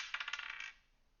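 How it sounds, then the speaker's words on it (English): Small sparkly dice for a tabletop role-playing game, rolled by a dungeon master, rattle and clatter briefly across a hard surface in a quick burst of light clicks that fade out after about half a second. "I'm gonna roll my new sparkly DMing dice"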